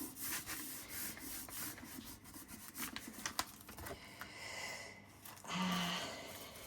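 Gentle close rubbing on a paper bag journal page, a soft papery scrubbing with brief louder strokes, with no talk.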